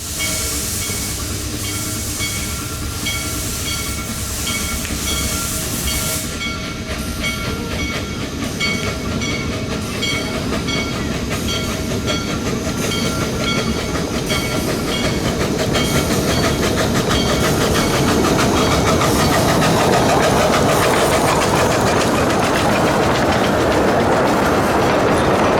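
Small steam locomotive number one pulls away at the Hesston Steam Museum, rhythmic exhaust chuffs and clanking wheels building steadily as it departs, with a hiss of steam and a loud, sustained rumble.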